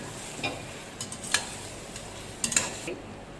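Onion and coconut paste gets stirred into mutton in a pan over a low sizzle, with a handful of distinct spoon scrapes and clinks against the metal, close and fairly clear.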